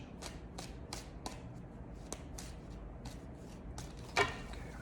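Tarot cards are shuffled by hand in a quiet room, a series of soft, crisp riffling bursts repeating at a steady pace, with one louder snap near the end.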